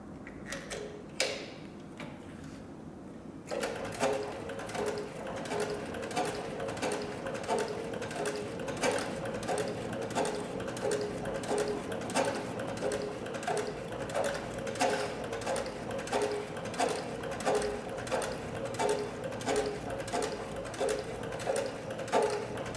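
A Cowboy CB3200 heavy-duty leather sewing machine stitches through four layers of 8 to 10 ounce tooling leather, a steady rapid mechanical clatter running continuously after a brief start, loud and close with no talking.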